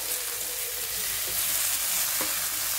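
Tomatoes and cashews frying in a pan for mixed vegetables, a soft, continuous sizzle with faint stirring, steady and alone with no talk.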